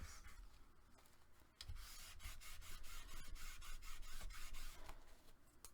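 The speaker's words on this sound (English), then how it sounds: "I'm going to go ahead and burnish with this tool. This is a Teflon tool" A Teflon burnishing tool rubs along a paper edge in steady, rhythmic rasping strokes, soft and close, with no voice over it.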